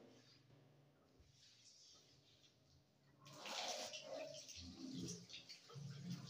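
Tap water runs steadily while hands are washed for wudu ablution, starting as a quiet trickle, then a louder, continuous splashing stream for the last few seconds.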